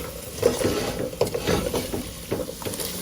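Carrots frying in a pot for cook-up rice with smoked herring, a soft steady sizzle with light scraping stirs and small clatters close by.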